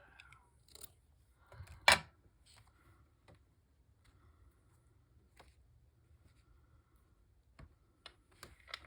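Scissors trimming a strip off paper for a mini file folder: one sharp close snip stands out, with a few faint clicks and small handling noises scattered around it in a quiet room.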